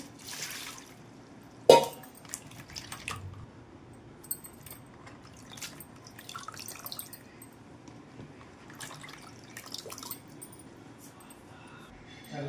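Bitter gourds being rinsed by hand in a bowl of fresh water: faint, sparse drips and light splashes with one sharper splash near the start, over a quiet room.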